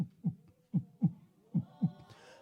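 A pastor at a children's church service imitates a heartbeat with his voice: six soft, low thumps in paired lub-dub rhythm, close and alone, ending with a faint breathy hiss.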